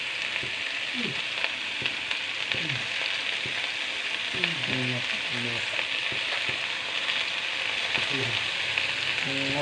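Pumpkin, potato and soybeans sizzle in a hot pan while being stirred after salt goes in, a steady close frying hiss broken by repeated scraping strokes of the spoon.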